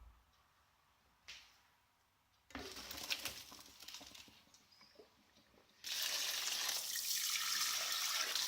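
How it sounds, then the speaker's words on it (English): Water drains off cooked rice and a cold tap runs over it, starting with a short splash and gush, then a pouring rush, ending in a steady loud stream of running water. "Turn it off and drain off the water and run it at a cold water."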